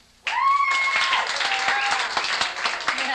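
Audience applause in a comedy club breaks out after a brief sustained tone, with scattered clapping and cheers at moderate, steady loudness for a few seconds.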